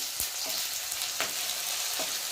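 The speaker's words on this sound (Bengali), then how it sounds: "দিয়ে ভালো করে ভেজে নেবো পেঁয়াজের সাথে" Garlic sizzles with onion in hot oil, a dense, close crackle broken by a few soft knocks from stirring, with no one speaking.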